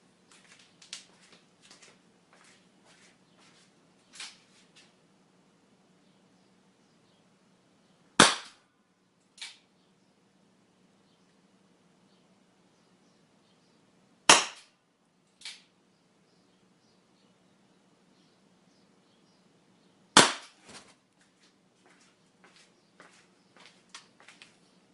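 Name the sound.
Anaconda launcher firing three Nokia phones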